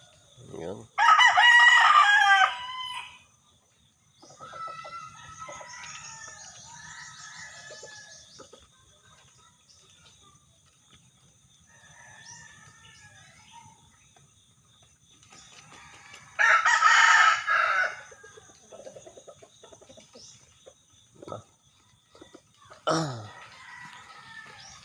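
Bantam chickens crowing in the rain, two loud close cock-a-doodle-doo calls separated by long stretches of softer clucking and faint background noise, with a brief squawk near the end.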